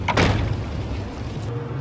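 A door is shut and locked with a solid thud near the start, followed by a low, steady room rumble and a faint click, with no voices.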